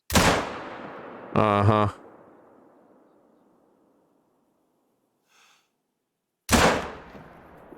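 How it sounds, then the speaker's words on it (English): Two loud, booming 7 mag hunting rifle shots from Hunter: Call of the Wild, each with a long fading tail, several seconds apart; a short voiced murmur follows the first shot. "Now let's try the 7 mag. Let's see how the 7 mag does."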